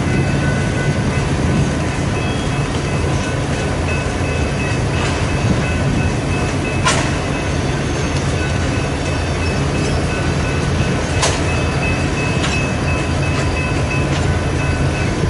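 A BNSF freight train rolls past on the Sioux City subdivision tracks through a Nebraska town, a continuous loud rumble of wheels on rail with occasional sharp clanks throughout.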